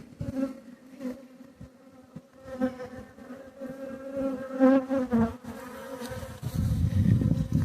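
A swarm of honeybees buzzes close by in a steady, wavering drone that swells louder toward the end, with no voices.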